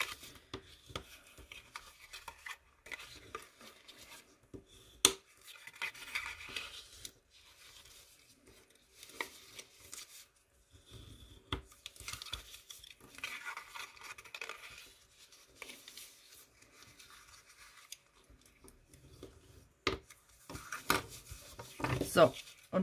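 Paper crease lines on a handmade diagonal flap box for a Nivea cream tin are re-folded one after another, giving soft, scattered crinkling and rubbing rustles in short bursts with quiet pauses, close by and without speech.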